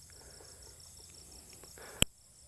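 Crickets in Thailand chirp in a steady high trill, with faint scattered night sounds beneath and one sharp click near the end.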